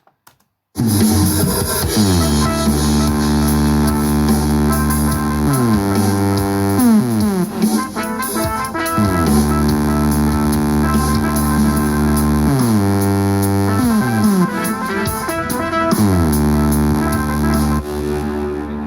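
A thick synthesized bass line pulses steadily with stepping pitch changes, buzzing and sustained, playing alone and loud.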